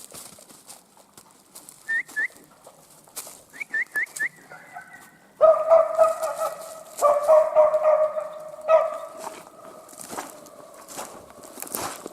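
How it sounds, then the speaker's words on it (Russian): A hunting dog named Tulan barking repeatedly out in the taiga near a cabin, sharp outdoor barks in bursts with a few whistle-like calls early on, moderately loud and carrying. "все еще лает"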